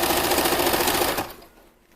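A sewing machine stitches a waistband with a fast, even mechanical chatter. It runs for just over a second, then stops, leaving a fading quiet.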